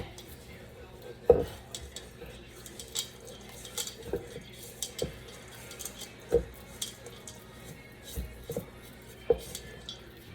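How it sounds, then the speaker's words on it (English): Cookie dough with walnuts and cranberries being mixed in a bowl, irregular knocks and scrapes of a utensil against the dish with softer squishing between, close and fairly quiet. "We're going to mix this all up nicely."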